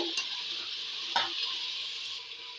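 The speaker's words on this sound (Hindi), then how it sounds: "अब इसे मैं तब तक भूनूंगा जब तक ये थोड़ा इसमें कलर चेंज ना हो जाए।" Chicken and onions frying in a pan while being stirred to make murga curry, a steady bright sizzle with a brief scrape of the spoon midway, close and continuous with no talking.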